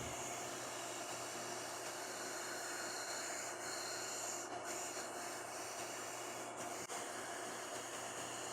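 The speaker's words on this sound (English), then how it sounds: "finish sanding right up to the line using my vertical belt sander" Steady, quiet whirring of a vertical belt sander grinding wood up to a line, an even broadband hiss with no pauses or speech.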